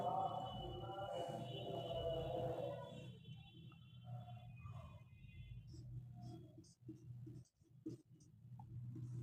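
Marker or chalk scratches across a board during a maths lesson, faint intermittent strokes in short bursts, with a brief clack or two and no talk.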